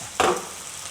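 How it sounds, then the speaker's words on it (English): Beef spread in a single layer searing in a hot pan for a ginger scallion stir fry: a sudden burst of sizzling that swells, then settles into a steady, softer frying hiss, close and with no talking. "spread the beef to a single layer. And let it sear on both sides"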